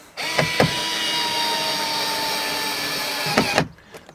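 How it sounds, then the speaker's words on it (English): Power driver screwing a screw into a plastic shed bracket: a sustained whirring motor run of about three seconds, framed by short clicks and ratcheting bursts at start and finish, close and alone. "I'm going to screw that in now."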